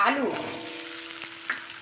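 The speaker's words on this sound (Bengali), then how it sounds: "আলুটা ভেজে নেবো একটু" Potato pieces fry in mustard oil in a home kitchen, giving a soft, brief sizzle with a light stir and a couple of small clicks, quiet and close.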